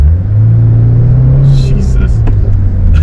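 A Subaru WRX fitted with a tuned throttle response controller accelerates in a loud, steady low engine rumble heard from inside the cabin, its pitch rising slightly, while a voice speaks briefly over it.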